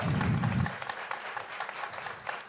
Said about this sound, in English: Please welcome with a big applause the members of the jury.